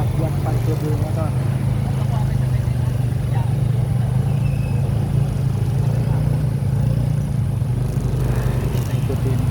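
A group of touring motorcycles moves through a crowded parking area near a waterfall in Cianjur, producing a steady, loud low engine drone throughout, with people talking over it.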